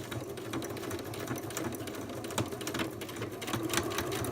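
A sewing machine runs continuously, back stitching over ribbon on a fabric gift tag, a steady close mechanical whir with a fast needle rhythm and no voices.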